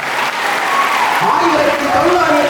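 Audience applause at a Kamarajar birthday celebration held at Don Bosco, Tirupattur, a steady dense wash of clapping filling the whole stretch with a loud crowd sound and some voices mixed in.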